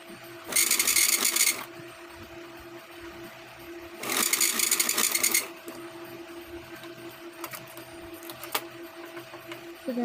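A sewing machine stitches a size-40 katori blouse in two loud bursts of rapid motor whirring, each roughly a second long, separated by a quieter hum and a few small clicks.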